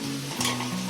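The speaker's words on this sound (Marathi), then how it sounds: "आता याच्यामध्ये कोळंबी टाकते बघ" Prawns hit hot oil in a cooking pot and start sizzling in a brief, close hiss that swells for a moment partway through, over a low steady hum.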